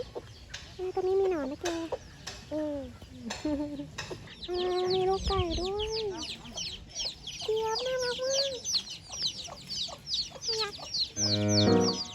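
Chickens clucking and calling close by in a village on Doi Pha Hi, with repeated short rising clucks and squawks, a few overlapping birds, and a louder burst near the end.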